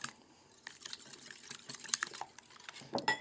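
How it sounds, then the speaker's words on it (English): Eggs whisked in a bowl with salt, sugar, black pepper and mustard for an old-fashioned 1929 coleslaw dressing, a quiet, irregular clicking and scraping of a whisk against the bowl, growing busier toward the end. "to those 2 eggs, we're going to add salt, sugar, black pepper, and some mustard. And then we just whisk that together"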